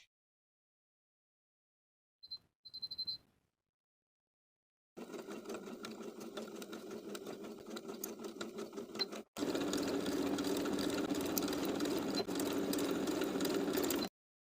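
A sewing machine runs in two steady bursts of rapid mechanical stitching, close and fairly quiet, after a brief click and whir, basting swimsuit fabric with its longest straight stitch.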